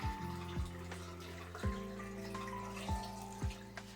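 Water pouring into a glass jar packed with tomatoes for pickling with vinegar and aspirin, a continuous trickle with gurgling glugs roughly every second and the pitch slowly rising as the jar fills, close and alone.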